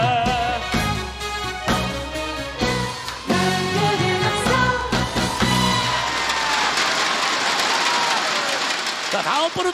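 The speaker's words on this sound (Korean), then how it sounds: "박수 주세요." Dense clapping from a crowd at a Korean TV singing contest, rising into a sustained wash of applause, with music and voices faintly mixed in at the start.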